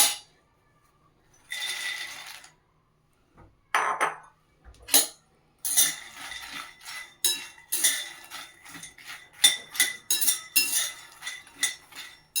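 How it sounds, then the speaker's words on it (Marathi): Makhana (fox nuts) dry-roasting in a pan, heard as bursts of light rattling, clinking and scraping that grow busier and more continuous after a quiet start, close and fairly loud. "मखाणे पण आपण थोडंसं मिनिटभर भाजून घेणार आहोत."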